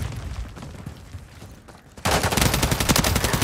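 Gunfire in Call of Duty: Modern Warfare 3 during a Domination match on the Afghan map. A quieter, rumbling stretch gives way to a sudden loud burst of rapid automatic fire that keeps going to the end.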